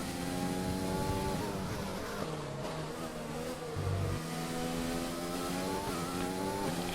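In a racing video game at the Paul Ricard circuit for the French Grand Prix, a race car engine revs high and shifts through the gears repeatedly, rising and dropping in pitch at a steady, moderate loudness.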